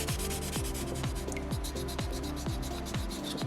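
Wet sandpaper scrubs a small soapstone Moai carving in quick, even back-and-forth strokes, about two per second, close and gritty with no talk.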